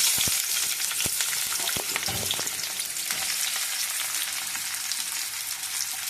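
Onions frying in oil for Gongura mutton curry, a loud close sizzle right from the start with a few crisp pops and spatters, then a steady crackle.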